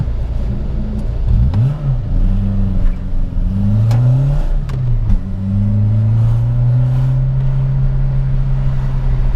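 A Renault Clio 172 or 182 hatchback on a test drive, its engine note rising and falling through gear changes and then holding a steady drone, heard from inside the car with no talk.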